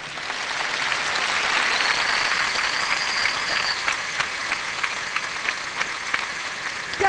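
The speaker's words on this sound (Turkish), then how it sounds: "Büyük bir alkış lütfen." Applause from an audience in a restaurant, a steady wash of clapping that peaks early and thins into scattered claps toward the end.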